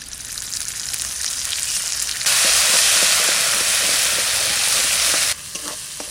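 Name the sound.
oil sizzling with dry chilli, bay leaf, cumin and spices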